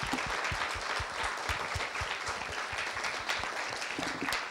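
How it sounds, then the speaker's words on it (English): An audience at an evening college presentation gives the speakers a round of applause, continuous full clapping filling the room loudly from start to finish. "Let's give them all a round of applause"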